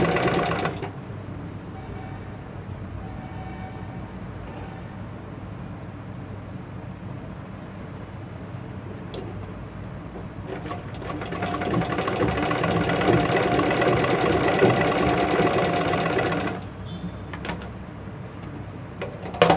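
A sewing machine stitches two blouse pieces together along a seam, a continuous mechanical whir that grows louder and busier midway, then eases back near the end.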